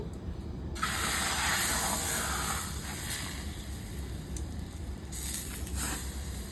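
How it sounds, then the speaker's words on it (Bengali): Rice flour batter for chitoi pitha sizzles in an oiled pan as a loud, steady hiss that starts abruptly and holds throughout, with a few brief sharper flares; no voices. "চাটুতে তেল দিয়ে দেবো আর এই যে ব্যাটার দিয়ে দিচ্ছি"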